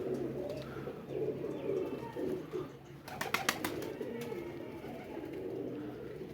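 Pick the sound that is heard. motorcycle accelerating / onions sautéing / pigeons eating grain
pigeons eating grain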